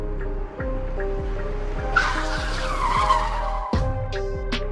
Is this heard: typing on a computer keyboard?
no